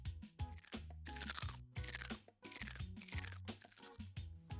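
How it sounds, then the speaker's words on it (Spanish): Loud, close crunching and chewing of ice cream, repeated in steady bursts of bites and munching with no talking. "Comiendo un delicioso helado"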